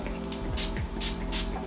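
Hair shine spray hisses from a can in several short bursts, close and fairly quiet, with faint handling rustle between sprays.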